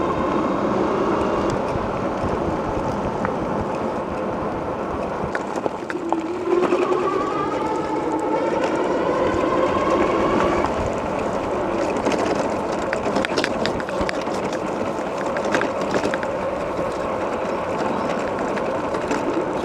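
Tonnerrey T8 dual-motor 3000W electric bike cruising down a road outdoors, a steady whirring motor hum with faint rising whine and continuous wind and tire rush, heard up close with no talking.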